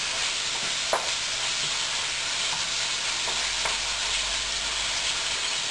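Onions and beef browning in a stir-fry pan, a steady loud sizzle with occasional soft knocks and scrapes of stirring, no talking heard.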